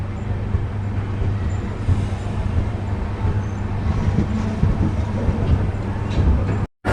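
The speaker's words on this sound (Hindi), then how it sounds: "तो यहाँ से एक बहुत ही सुंदर कर्व लेगी हमारी ट्रेन।" The 14505 Nangal Dam Express rolls through a curve, heard from inside as a loud, steady low rumble of wheels and carriage, with the sound cutting out briefly near the end.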